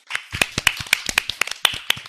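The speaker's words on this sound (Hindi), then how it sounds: "एक बार जोरदार तालियां हो जाए" A small audience at a children's programme claps after a poem recitation: a scattered, uneven patter of individual hand claps, close and moderately loud, with no talking.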